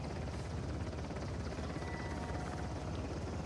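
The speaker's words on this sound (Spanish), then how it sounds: "Que no nos vea el helicóptero." A helicopter in the video game Uncharted: The Lost Legacy flies overhead, its rotor beating in a dense, continuous chop that stays loud and steady throughout, with no voices over it.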